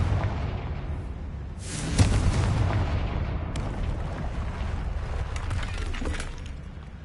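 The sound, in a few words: Confringo explosive spell in video game Hogwarts Legacy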